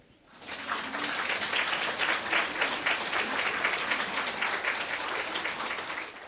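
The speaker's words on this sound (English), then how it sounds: "I talk so much and now you clap?" An audience at a Buddhist sutta talk breaks into steady applause that starts abruptly and carries on evenly for several seconds, filling the room with dense clapping.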